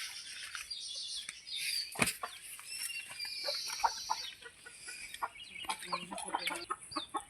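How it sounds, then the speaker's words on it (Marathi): Chickens clucking near a garden plot with young monsoon vegetable plants such as cucumber and pointed gourd, with short calls scattered over a busy layer of outdoor bird chatter and no talk. "त्या बघा कोंबड्या आहेत समोर"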